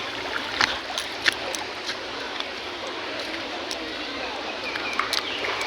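A creek at a natural spring resort rushes as a steady broadband wash of flowing water, with faint scattered clicks and small splashes on top and no clear voice.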